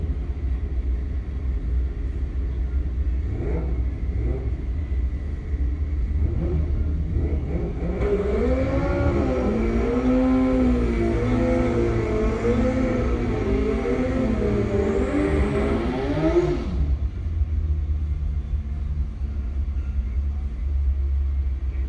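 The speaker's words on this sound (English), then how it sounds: "Aaron Litton on the Williford Racing Bike taking on Terrence Angela on the DME machine" Drag racing motorcycles at a Man Cup season opener rev up on the line, a loud sustained engine roar with rising and falling wavering pitch for several seconds, over a constant low rumble.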